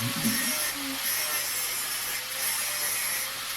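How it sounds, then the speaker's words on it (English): Angle grinder cutting into a seized nut on a Skoda Octavia wheel carrier, a continuous loud high-pitched grinding whine with slight surges in pressure, close up and without speech. "grab the angle grinder and try to yeah,"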